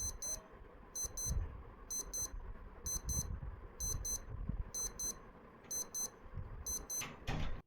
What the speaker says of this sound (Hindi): तो इसका अलार्म का इतना साउंड है, ज़्यादा कम भी नहीं है और ज़्यादा लाउड भी नहीं है